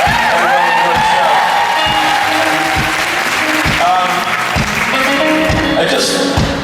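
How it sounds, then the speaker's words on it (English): Convention audience applauding sign language interpreters at a Supernatural fan convention in New Jersey: dense, loud sustained clapping filling the whole stretch, with cheers and whoops mixed in and a voice talking over it. "Big round of applause for our translators who come here and help everybody enjoy the show."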